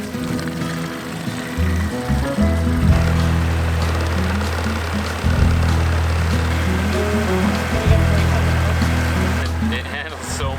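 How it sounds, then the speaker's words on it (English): Small outboard motor driving an inflatable dinghy across the water, a steady loud low drone with strong harmonic hum running throughout, shifting slightly in pitch a few times as the throttle changes, with wind and water noise over it. "Logan's mechanical skills came to the rescue again, and it wasn't long before the motor was back up and running"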